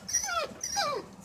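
A dog gives two whining, descending whimpers in quick succession, close and fairly loud, with no talking over them.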